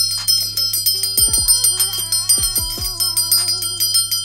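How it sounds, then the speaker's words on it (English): A hand bell rung during a spiritual reading session, giving a few bright ringing strikes with lingering tones over a steady background hum. "let me go on ahead and ring this bell"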